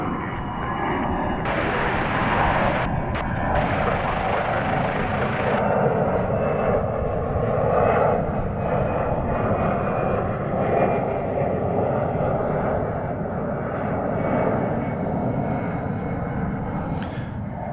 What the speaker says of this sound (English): American Flight 1499 off to San Antonio, an Airbus A319